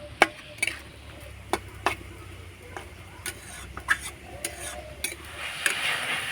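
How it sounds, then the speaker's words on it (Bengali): Jaggery filling for apple pitha stirred in a pan: a spatula gives sparse, sharp clicks and scrapes against the metal over a faint, quiet background. "তো নাড়াচাড়া করে আমি কুটটা তৈরি করে নিয়েছি পিঠের জন্য"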